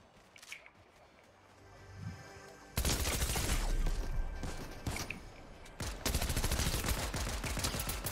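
Bursts of gunfire ring out during a Fortnite match, starting faint and distant, then breaking into loud, dense volleys from about three seconds on, with a short lull before another sustained burst.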